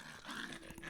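Hairy bug creatures in the video game The Supper let out dog-like growls, a short rough snarling burst heard up close over a low game backdrop.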